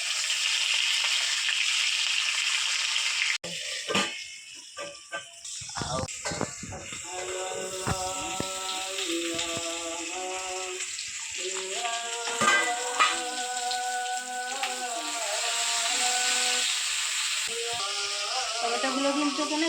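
Steady hot-oil sizzling and frying hiss of tomatoes being turned in the pan fills the clip, with a sharp clatter early on and a voice speaking over it.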